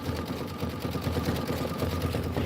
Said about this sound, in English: So I'm going to go ahead and just hit start. It's going to do that Kimberbell decorative stitch.